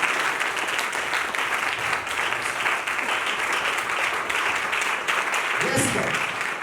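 Audience applause at a church service, a sustained, dense wash of clapping from a large crowd with a voice briefly rising through it near the end.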